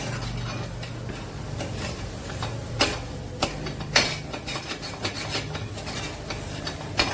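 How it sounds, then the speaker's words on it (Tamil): Food sizzles in a pan while a utensil scrapes and stirs, giving several sharp scraping strokes over a steady frying hiss, close up with no voices. "இப்போ இதை இப்படி வதக்கிக்கலாம்."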